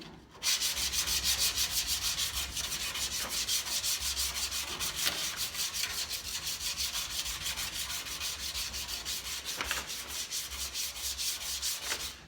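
Hand sanding on a dented metal panel, with a continuous rhythmic scrubbing rasp of even back-and-forth strokes, close and steady from start to finish.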